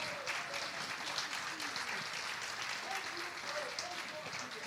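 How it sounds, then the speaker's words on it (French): Sustained audience applause fills the room, dense steady clapping that carries on evenly from start to finish with faint voices mixed in. "je pense qu'on peut applaudir"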